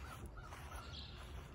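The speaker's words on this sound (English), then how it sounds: "You got the crows and the ravens, you know, caw, caw, caw in there." Faint crows cawing in the background, a few soft calls over constant outdoor ambience on a cold June morning in Thunder Bay, no speech.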